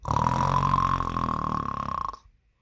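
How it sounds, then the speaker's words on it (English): A single long, loud snore rumbling for about two seconds with a buzzy, throaty tone, then stopping abruptly into silence. "He was snoring."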